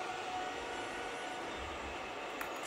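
Trains rolling on rails in the Spider-Man: Miles Morales video game, a faint, steady mechanical rumble with low clanks and a brief high squeal near the end, heard alone without speech.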